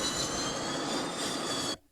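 A jet aircraft on an aircraft carrier's flight deck gives off a loud, steady, close-up engine roar that cuts off abruptly near the end.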